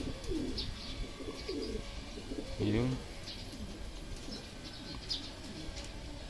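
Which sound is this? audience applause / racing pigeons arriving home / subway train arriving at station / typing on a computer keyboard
racing pigeons arriving home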